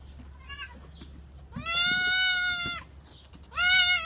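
Baby goat kids, including Nubian kids, bleat close by in three calls: a short one, then a long wavering cry, then another loud bleat, over a low steady hum.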